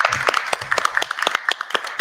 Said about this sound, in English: a quick round of applause for that lovely presentation